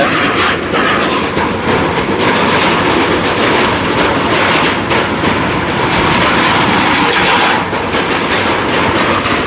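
Vehicles race at high speed across an army-built bridge, making a loud, continuous rumbling roar with a rhythmic rattling clatter, close by and steady from start to finish.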